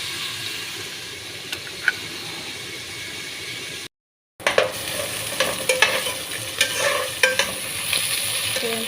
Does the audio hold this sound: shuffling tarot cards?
no